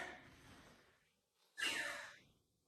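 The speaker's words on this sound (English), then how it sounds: "See, I'm breathing hard." A person breathes hard and heavily while resting between single-leg workout exercises, with a quiet stretch of breathing followed by one louder, close exhale or sigh, heard alone with no talking.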